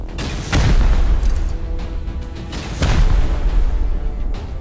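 Rocket explosions hitting a base during a Rust raid, two heavy booms a couple of seconds apart with rumbling tails over constant low background noise.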